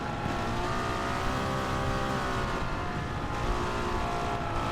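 A 1955 Mercedes racing car in a racing video game holds a loud, sustained engine drone with shifting harmonic pitch, continuous and close throughout, with no voices.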